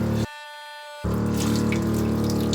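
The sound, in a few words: water running from boat tank tap into sink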